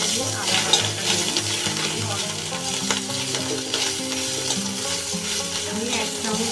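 Ginger paste sizzles and fries steadily in hot oil with cumin and bay leaves, stirred in a pan while cooking a coconut-milk pointed gourd dish; continuous close crackle with light utensil clinks.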